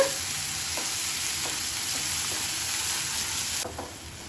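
Onions for Andhra-style spicy onion chutney fry in a pan over low heat, a steady close sizzle with a few soft stirring scrapes, alone with no talk.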